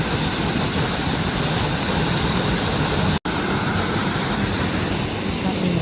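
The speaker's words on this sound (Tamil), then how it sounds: "இப்போ கூடுதலான அளவு தண்ணி வரக்கூடிய மாதிரி" Water roars in a loud, steady, continuous rush close by as a Thames canal lock on the Wey and Godalming Navigation fills, broken only by a momentary dropout.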